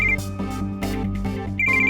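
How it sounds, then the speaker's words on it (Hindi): A telephone rings in a household scene: a bright, repeated electronic ringtone of short trilling bursts, loud and close, filling the whole stretch with no voices over it. "अब की बार फोन बजे ना तो उठा के मेरे कान में लगाना"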